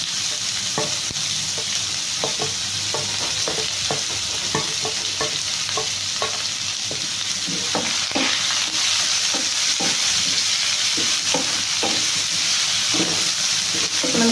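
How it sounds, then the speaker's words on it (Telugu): Onions and green chillies fry in a wide kadai with a steady, loud sizzle, and a spoon scrapes and stirs through it in irregular clicks. No one speaks. "ఇప్పుడు మనము ఆనియన్స్ వేసుకుందాము ఆనియన్స్ పచ్చిమిర్చి"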